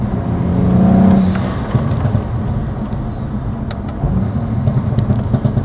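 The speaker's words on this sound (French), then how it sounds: "ce petit bruit, tu sais, un petit peu de turbo là quand ça charge" BMW 135i E82 with Stage 2 tuned N55 turbo engine and DKG gearbox, steady close engine drone with a swelling whoosh early on, then continuing road rumble under faint high turbo whistles.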